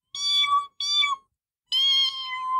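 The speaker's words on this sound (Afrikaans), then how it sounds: "Dit klink soos 'n kat wat in die lug miau." A cat meows three times from high up on a windmill in an animated scene: two quick, close-together cries, a pause, then a longer drawn-out one, loud and clear with no talk.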